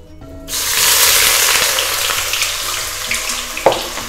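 Onions drop into hot oil in a pan for plov, and a loud sizzle bursts in at once, then settles into a steady frying hiss with a few small pops and crackles.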